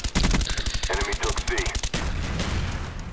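Rapid automatic gunfire rattles in a dense burst in Call of Duty: Black Ops Domination multiplayer, followed by a sustained noisy wash of battle ambience, loud and close.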